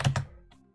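Two quick keystrokes on a computer keyboard, close and crisp, followed by a fainter tap and a near-silent gap.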